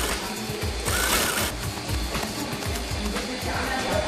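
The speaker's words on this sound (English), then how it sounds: "They use a nylon thread to attach the pouches to the coat." Sewing machine stitching pouches onto a jacket with nylon thread, a loud steady rapid needle rhythm running continuously and close, with no speech over it.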